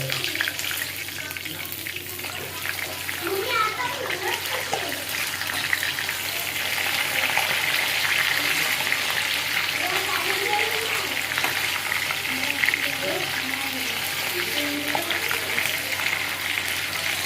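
Chicken lollipops sizzle and fry steadily in a pan as a starter dish cooks, a continuous close crackle with occasional stirring, while a voice talks over it.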